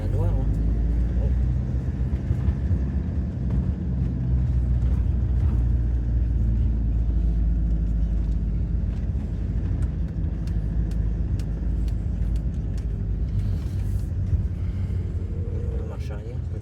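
A car engine rumbles steadily and close while reversing into a parking space, a low continuous drone under people chatting throughout.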